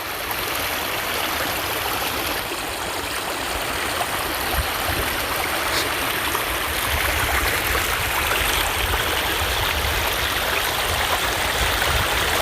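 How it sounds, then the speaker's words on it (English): Rainwater streaming down an Appalachian Trail path like a creek, a continuous close rushing and gurgling flow that stays even and fairly loud throughout with no voices. "The trail is a creek today."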